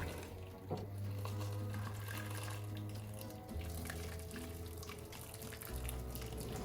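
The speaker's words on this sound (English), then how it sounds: "I'm going to add the water, which is already heated up. And I just want to cover the chicken." Preheated water is poured from a kettle into a pot to cover chicken for matzo ball soup, a steady close pouring and splashing stream that runs continuously with a low hum underneath.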